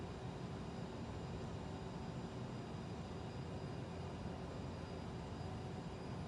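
Aircraft engine in a flight simulator game spooling up for takeoff on runway 5, a steady loud broadband roar and rumble that holds constant throughout with no talking.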